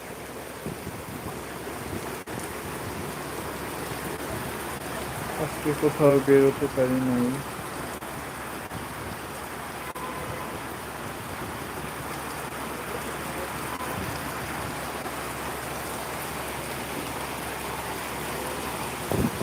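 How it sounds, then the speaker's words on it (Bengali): Heavy rain pours down in a steady, broadband hiss that holds constant throughout, while a person speaks briefly partway through, close over the downpour. "সারাদিন একেবারে বৃষ্টি চলছে তো চলছে"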